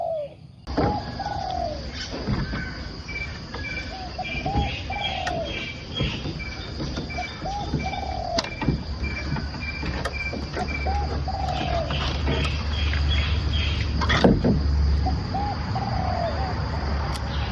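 A spotted dove coos repeatedly at a steady interval during bird trapping in the Khao Kalon area of Khanu, Kamphaeng Phet, Thailand, moderately near, over a constant chorus of crickets and insects.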